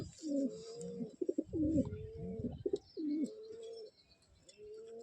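Giribaz pigeons coo in repeated throaty, rolling phrases close by, with brief pauses between calls and a soft background hiss.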